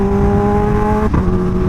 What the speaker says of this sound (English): I don't know if you guys heard it, but that supercharger was loving this